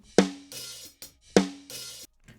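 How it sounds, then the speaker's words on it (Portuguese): Two sharp, bright snare drum hits heard close up from a microphone over the top head only, each followed by a few softer taps, with a short ringing tone after each strike. "Esse é só o som da caixa da parte de cima."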